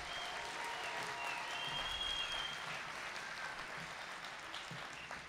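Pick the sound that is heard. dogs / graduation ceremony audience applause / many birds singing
graduation ceremony audience applause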